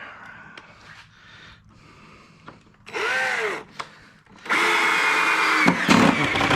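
A power drill drives drywall screws into a wooden compost bin in loud bursts of whirring that rise and fall in pitch as each screw seats, with short pauses between runs.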